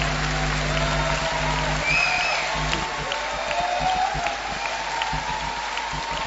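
Audience applauding Father Silouane, a steady wash of many hands clapping with some cheering, held at an even level throughout with a low hum beneath.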